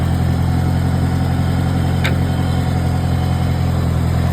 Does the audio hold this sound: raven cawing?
no